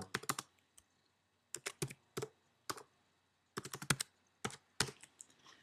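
A blog post title being typed on a computer keyboard, quiet crisp key clicks in short uneven bursts with pauses between them, close and with no voice.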